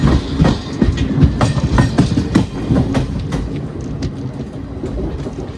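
A Sabarimala special passenger train runs on the rails with a loud, rhythmic clickety-clack of wheels over joints and a steady rumble that eases slightly toward the end, with no voices.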